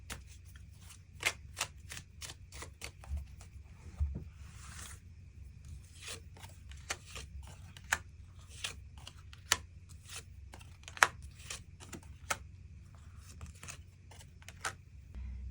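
Tarot cards being shuffled and drawn, a run of sharp, irregular flicks and slaps close to the microphone, with brief rustling sweeps and quiet gaps between them.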